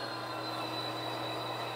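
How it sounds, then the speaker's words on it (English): A container train rolls past in Cajon Pass in a continuous, steady rumble with a faint metallic whine on top, loud and unbroken throughout. "We got a train going through uh, Cajon Pass there. Of course, it's a container train."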